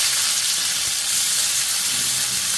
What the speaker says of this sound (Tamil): இப்போ முதல் வெங்காயத்தை சேர்க்குறோம்.